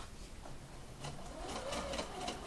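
A sewing machine stitches slippery fabric at a shorter stitch length with lowered thread tension, a steady close mechanical whir that picks up speed partway through and runs on without talk.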